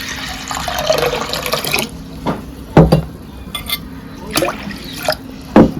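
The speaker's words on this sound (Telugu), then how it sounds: "ఇందులోకి ఉడకడానికి సరిపడా వాటర్ పోసేసుకుందాం" Water pours from a tap into a pot of washed toor dal for boiling, a splashing stream that cuts off, then a few sharp clinks and knocks of the pot and utensils nearby.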